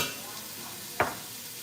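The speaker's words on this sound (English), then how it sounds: "And give it a stir." A spoon stirs a heaping tablespoon of tomato paste through hot oil and seasonings in a pan, giving one short scraping stroke over a soft, steady sizzle.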